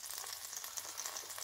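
A steak cooks inside an air fryer, giving a steady soft sizzle and hiss with faint crackles throughout, quiet and continuous with no voices.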